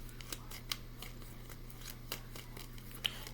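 A deck of tarot cards being shuffled, giving soft papery riffles and scattered sharp clicks over a steady low hum, with no voices.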